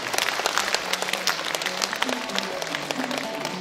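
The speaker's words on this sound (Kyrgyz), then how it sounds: "агабызга да бир кол чаап коюңуздарчы" An audience at a televised talent show in a philharmonic hall claps in dense, sustained applause that fills the whole moment without voices.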